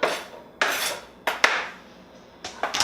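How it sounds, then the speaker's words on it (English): Chopped onion tossed into hot olive oil in a pan, heard as several sharp, close clatters and scrapes of utensils against cookware, each trailing off into a faint hiss. "Then we're going to toss in our chopped up onion"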